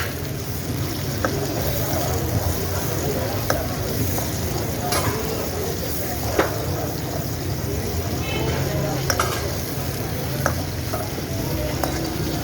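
Ghee sizzles and crackles steadily in a pan while kabab karahi gravy fries, a dense continuous sizzle with scattered pops and occasional stirring.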